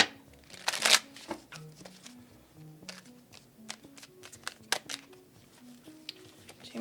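Tarot cards shuffled and pulled from the deck: a sharp riffling burst near the start, then soft, scattered taps and slides of cards, close and quiet, with gentle background tones and no talk.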